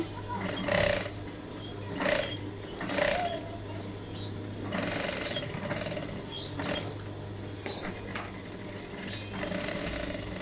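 A sewing machine stitches dense gathers on a salwar leg, running in short bursts of rapid mechanical whirring separated by brief pauses, with a steady low motor hum underneath.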